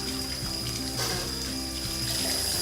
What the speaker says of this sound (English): you want to rinse your mouth 3 times